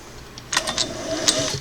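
Singer 404 sewing machine stitching through several layers of garment leather, a few quick bursts of mechanical needle clatter starting and stopping, close and moderately loud.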